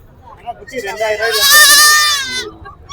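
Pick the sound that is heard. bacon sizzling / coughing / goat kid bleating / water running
goat kid bleating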